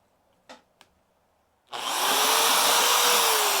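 Ryobi D620H corded hammer drill, 6.2 amp with hammer setting engaged, bores into wood: two brief taps, then the motor spins up and drills loudly and steadily to the end, alone with no talk.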